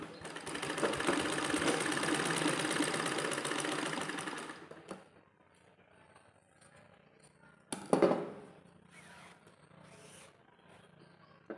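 A sewing machine runs steadily for about four and a half seconds while stitching a six-panel petticoat, then stops. A brief rustle and clack of fabric handling follows, and a few soft movements trail off.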